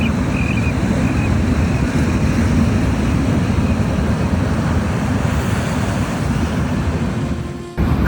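Pacific Ocean surf rolls in at Los Angeles, California, a steady, loud roar of breaking waves mixed with gusting wind buffeting the microphone, continuous and close.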